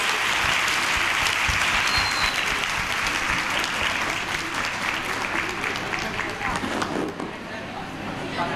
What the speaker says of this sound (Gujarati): તાળીઓ ઓછી કેમ પડે છે?